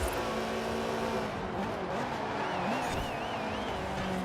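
A Porsche closing in from behind during a Forza Horizon 4 race, its engine a steady, rising drone under the player's own car, with pitch wavering as it shifts and gains ground.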